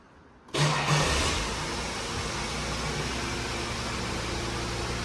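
A Holden VT Commodore engine cranks and catches abruptly after a brief silence, then settles into a steady, fairly loud idle with a constant droning hum and no talking.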